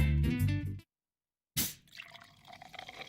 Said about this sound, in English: opening and pouring a bottle of Jamaican country-style ginger beer soda